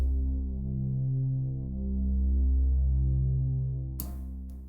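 A soft, sustained synth pad drenched in reverb from Studio One Presence holds a low, droning chord that swells gently, then ends with a brief noisy burst near the close.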